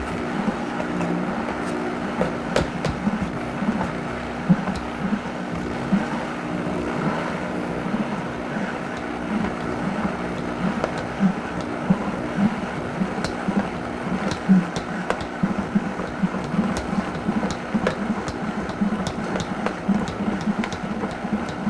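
Walnuts being chopped slowly at low to medium speed in a food processor for a raw vegan taco filling, giving a steady, continuous motor whir with a busy grinding rattle that runs unbroken throughout.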